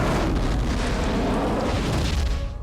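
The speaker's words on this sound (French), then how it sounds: "Explosion." A huge, roaring explosion from the Korean monster film Yongari fills the clip with dense, loud rumbling noise. It sustains for the full length and eases slightly only at the very end.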